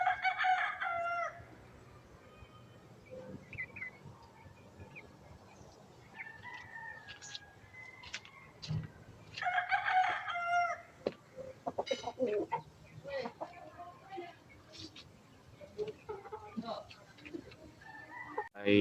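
Roosters crow in a backyard chicken pen, one nearby crow opening and another near the middle, with scattered clucks between them while someone talks over the birds.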